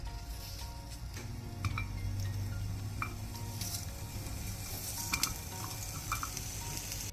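Onion and garlic fry in hot oil in a pan, giving a soft, continuous sizzle with scattered crackles, light pops and occasional utensil clinks.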